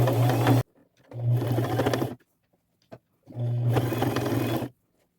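A sewing machine stitches a decorative band over the raw edge of a thrifted jacket, running in three loud steady bursts separated by pauses, with no talking.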